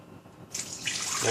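Water pours steadily from a container into a blender, a bright hissing splash that begins abruptly and continues close and alone.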